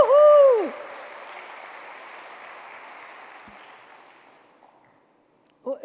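Church audience applauding and cheering at a talk on spirituality and mental health; a loud whoop opens, then steady clapping fades out over several seconds before a voice returns at the end.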